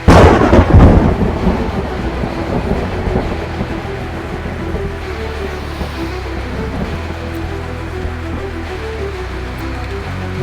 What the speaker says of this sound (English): Not sure what's up with the storm.